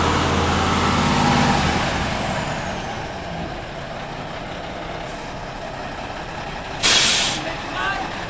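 Air hisses from a truck's parking brake as a sharp, brief release near the end, over a steady engine hum, with a long hiss fading early on.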